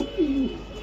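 A racing pigeon from a club loft gives a single short, soft coo, close by in a quiet setting.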